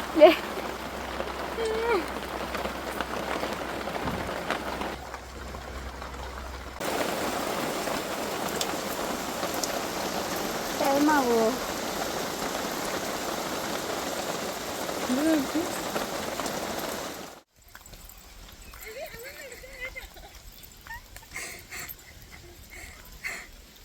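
Steady rain patters on a surface throughout, with a brief break in the middle, and occasional panting or breathing noises nearby.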